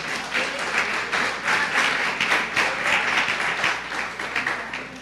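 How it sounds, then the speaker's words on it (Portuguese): A church congregation at Igreja de Nova Vida do Catete applauds together in a steady, dense wash of clapping that swells and holds for several seconds, close and full, with no voices over it. "Uma salva de palmas ao Senhor."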